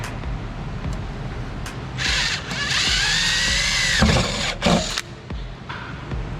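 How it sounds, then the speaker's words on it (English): A power drill whines up and bores into a Jeep Wrangler for a few seconds, stopping and restarting briefly, close up over a low background rumble. "So weird drilling into my Jeep like this."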